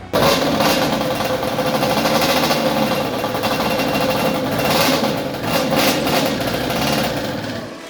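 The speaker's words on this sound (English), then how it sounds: "I actually was idling the Banshee before we got any of this stuff done in the shop" A Yamaha Banshee ATV engine idles in a workshop, a steady, dense mechanical chatter that holds close and loud for the whole stretch with only slight swells, and no one talks over it.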